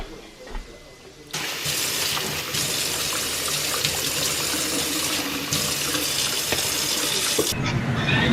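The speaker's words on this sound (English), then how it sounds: "I'm going to add some water." Water gushes loudly from a tap while being added to a pancake batter mix in a home kitchen, a steady forceful stream lasting about six seconds before shutting off abruptly.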